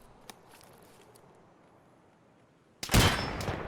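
An RGD5 grenade explodes in the shooter game Escape From Tarkov, a sudden loud blast near the end after quiet ambience and a faint click, ringing out with a rough lingering tail.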